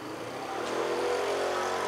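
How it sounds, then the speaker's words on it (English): A car engine revs up freely with no gear engaged, a short rising roar that climbs in pitch over about two seconds, heard close and alone without any speech. "then the engine is revving up without any load"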